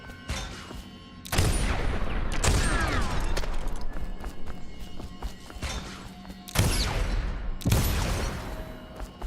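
Gunshots fired at whale oil targets in the stealth game Dishonored: several loud, abrupt blasts spaced a second or more apart, each a broadband crack with rattling tail, over continuous game ambience and clatter.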